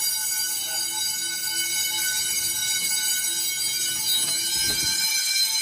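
A school fire alarm bell rings steadily and loudly throughout, with a continuous electric tone running the whole time and some faint background movement underneath.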